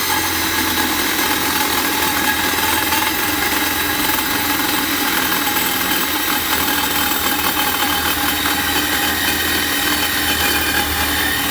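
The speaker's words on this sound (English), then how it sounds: "I have a bimetal blade in my Sawzall here." Sawzall reciprocating saw with a bimetal blade cutting steadily on a Chinese mini excavator, a loud, continuous buzzing rasp that runs unbroken and close throughout, with no talking.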